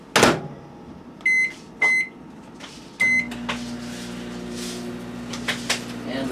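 A microwave oven warming food gives three short beeps as it is set, then starts up with a steady low hum that runs on alone to the end.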